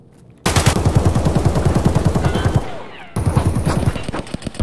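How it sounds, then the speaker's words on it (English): Rapid automatic gunfire from the Escape From Tarkov video game, close and loud, one sustained burst of fast regular shots, a brief pause, then another burst with trailing shots. "He just killed me with a goddamn PB!"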